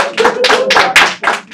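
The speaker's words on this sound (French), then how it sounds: "je voudrais vraiment demander un gros applaudissement à tous les gens de la" A small audience at an intercultural choir event claps in distinct bursts, a handful of close, uneven slaps with faint voices mixed underneath.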